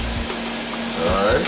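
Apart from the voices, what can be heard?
oven fried chicken sizzling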